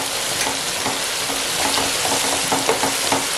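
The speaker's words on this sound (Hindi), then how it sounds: "अब इसकी हमने करनी है अच्छी सी भुनाई, इसके अंदर कोई कंप्रोमाइज नहीं होना चाहिए, और हमें चमचे को जरा ज्यादा जोर से इस्तेमाल करना है।" Beef fries in a pan with a steady, loud sizzle while a spoon stirs it vigorously. Repeated scraping strokes sound close up over the constant hiss.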